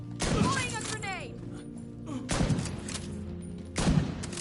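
Grenade blast and gunfire in the video game The Division 2: heavy thumping explosions and shots come in three loud bursts a second or two apart, with a player's voice speaking over them.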